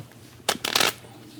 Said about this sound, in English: Go ahead and give those a shuffle.